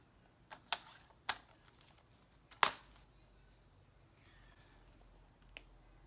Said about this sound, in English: Okay, now we're cutting those cards.